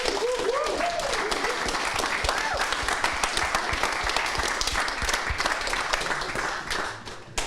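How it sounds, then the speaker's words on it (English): A meetup audience of developers gives sustained applause, dense clapping that holds steady for several seconds then thins out near the end, with a brief voice audible at the start. "I think we should give one last applause for Onno."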